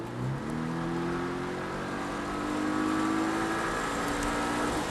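Porsche Cayman S accelerating on the Mireval race circuit in France, a steady engine note with harmonics climbing through the revs, heard from inside the car at fairly constant loudness, with no talk.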